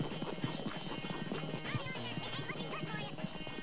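Horse hooves clip-clopping at a quick steady pace during a race in Red Dead Redemption 2, with occasional whinnies, continuous and fairly close over a busy game soundscape.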